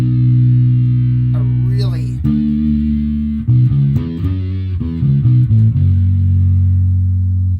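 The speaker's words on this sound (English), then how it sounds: "bring in the drive, bring up, turn on the distortion or the fuzz option" A bass guitar through a Blackstar Unity 500 amp with thick, buzzy distortion or fuzz, played as sustained notes then a series of shifting plucked notes, loud and saturated with a steady hum underneath.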